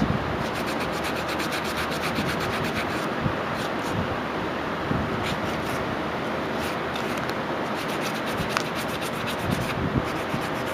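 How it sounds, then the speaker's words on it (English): Steady rubbing of fine 400-grit sandpaper over a wooden carving knife handle between polyurethane coats, a continuous close scratchy hiss without pauses and no talk. "you want to get that roughness off of the handle. And you take like real light sandpaper, like 400 grit"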